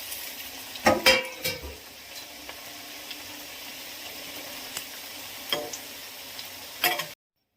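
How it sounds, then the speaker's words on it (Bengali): Labanga latika sweet pastries fry in oil and are turned side to side, making a continuous close sizzle broken by utensil knocks and scraping clinks before the sound cuts off abruptly. "এবার পরের ফুলগুলোও ঠিক একইভাবে ভাজবো, এপিট ওপিট করে লাল লাল করে।"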